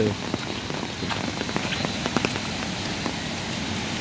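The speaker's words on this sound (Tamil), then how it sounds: "கொஞ்சம் அதிகமாக போட ஆரம்பிச்சு அதனால தான் அம்பர்லா வாங்கினோம்" Steady rain pattering on surfaces during a hill trek in Munnar, with scattered distinct drops over a dense continuous hiss, close and fairly loud throughout.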